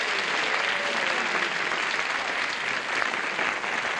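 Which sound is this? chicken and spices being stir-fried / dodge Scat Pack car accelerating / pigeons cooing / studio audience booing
studio audience booing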